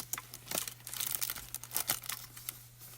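A sheet of plain paper shim is handled for hot foiling onto velvet, giving close, repeated crinkling and rustling in short bursts over a steady low hum.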